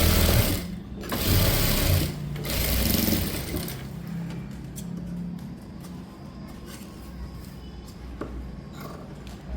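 A sewing machine runs in quick bursts and then a steadier whirring stretch while stitching a blouse seam about a quarter inch in, close-up with mechanical clatter and no speech.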